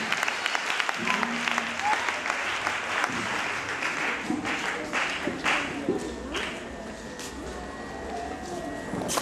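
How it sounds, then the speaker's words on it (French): An audience at a church gospel festival applauding a singer, with a dense, sustained crowd of clapping and cheering throughout and voices mixed into the noise. "Acclamons très très très fort pour elle."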